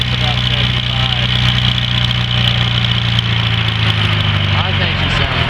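A 1945 Farmall H tractor engine idles close by with a steady, low, slightly knocking chug, and a voice can be heard talking over the running engine.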